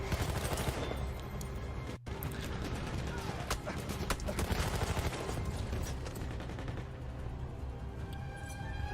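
Full automatic gunfire in the Battlefield 1 video game on the River Somme map, with dense continuous rattling shots and battle noise throughout, fairly loud with a brief cutout partway.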